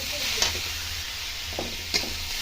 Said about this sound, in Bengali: এখন ফোড়নটা হয়ে যাওয়ার পরে এই যে কুজিয়ে রাখা আলুটা দিয়ে দিলাম।